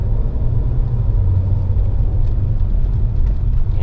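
A BMW E92 335i with the N54 twin-turbo engine runs rough and misfires, a loud steady low rumble from close by with no talk over it.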